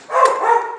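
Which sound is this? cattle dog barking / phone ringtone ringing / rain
cattle dog barking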